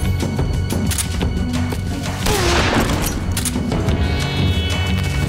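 Shotgun blasts in the video game Metal Gear Solid 3, a dense run of sharp booming shots with game noise and music layered over a steady loud bed, close and continuous.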